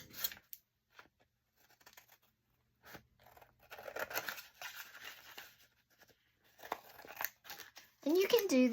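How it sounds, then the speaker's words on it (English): Scissors trimming paper for a handmade mini book for journals, with faint, sparse snips and crinkling close by, broken by quiet gaps, and a voice talking near the end. "I'm just going to trim around."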